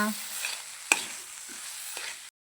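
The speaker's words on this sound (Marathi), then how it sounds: "असा दाबून छान असा परतून घ्यायचा" Thickening carrot halwa mixture stirred and pressed in a pan gives a faint frying sizzle with a sharp spoon knock, then a few soft scrapes before it cuts out.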